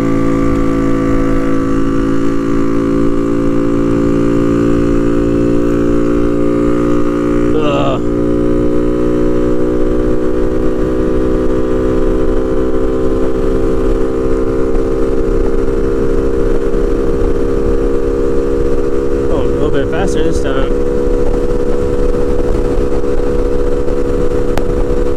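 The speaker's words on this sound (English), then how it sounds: "Wide open throttle. Here we go." A Honda Navi mini motorcycle's small engine at wide open throttle, a steady, loud droning hum that holds constant for the whole stretch with wind noise and no clear speech.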